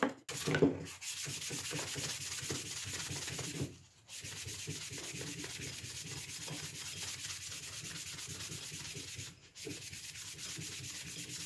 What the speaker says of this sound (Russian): вот сейчас наждачечка, уже всякая есть, вон она, на поролон наклеенная, наждачка такая